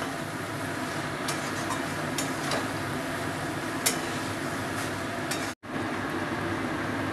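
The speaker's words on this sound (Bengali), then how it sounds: "এবার আমি আগে থেকে ভেজে রাখা আলুগুলোকে দিয়ে দেবো। আলুগুলোকে দিয়েও একটু ভালো করে কষিয়ে নেব।" Pre-fried potatoes sauté in oily masala for a Bengali tilapia curry, a continuous close sizzle broken by occasional scrapes and taps of a spatula and one brief dropout near the end.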